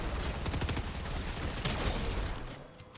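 Rapid, loud SMG gunfire in a video game, a continuous automatic burst for about two and a half seconds before cutting off into quieter background.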